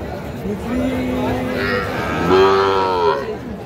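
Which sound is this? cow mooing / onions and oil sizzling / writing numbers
cow mooing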